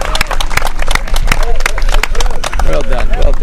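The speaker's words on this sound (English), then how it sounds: "let's give these kids another round of applause" A crowd of spectators applauds a youth 12U softball team at a championship game, steady scattered clapping mixed with cheering and chatter.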